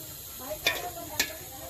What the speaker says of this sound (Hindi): मसाले वगैरह सारे मिक्स हो गए हैं, अभी इसको मिक्स कर रहे हैं।